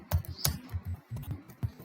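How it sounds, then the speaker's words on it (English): Keystrokes on a computer keyboard as a programmer types a line of Java code, a quick irregular run of close, crisp clicks and taps in a quiet room. "Within quotes I am just typing hello welcome to"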